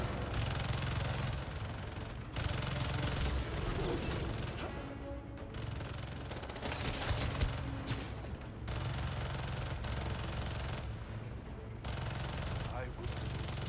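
Automated turrets fire in a Spider-Man video game, a dense, continuous rattle of rapid gunfire that runs the whole time with brief gaps, mixed with game noise and a voice speaking over it.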